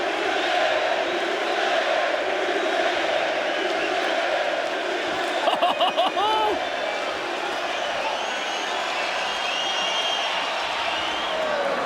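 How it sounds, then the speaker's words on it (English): A packed Belfast arena crowd roars after a first-round MMA knockout, a dense sustained wall of cheering with a louder surge of shouts midway, while a commentator talks over it. "listen to this crowd."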